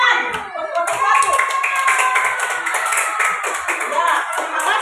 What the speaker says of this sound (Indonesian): Ayo tepuk tangan buat kelompok satu.